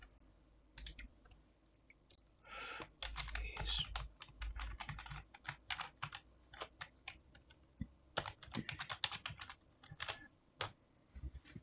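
Fast, irregular clicking of keys on a computer keyboard, with dense bursts of keystrokes and short pauses, close and fairly quiet, with no talking.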